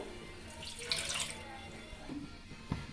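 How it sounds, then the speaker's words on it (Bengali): Water poured into a pan of Bengali fish curry with fried eggplant, a soft running splash that swells and fades over a few seconds against a quiet kitchen background. "সেই কারণে সেই মতো দিয়ে দিচ্ছি জল"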